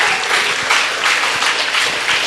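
Loud, dense applause from an audience at a school poetry competition (bait bazi contest) in Aurangabad, steady and sustained throughout with no break.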